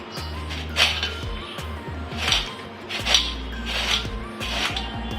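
Raw green mango being grated into long shreds for sweet-sour murabba, rhythmic scraping strokes against a metal grater with clinks of metal and dishes, close and alone with no talk.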